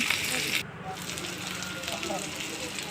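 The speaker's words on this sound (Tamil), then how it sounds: "வெங்காயம் நல்லா வதங்கிட்டுருக்கு" Onions sauté in a hot pan with a steady, close frying hiss and soft crackle, holding at an even level throughout.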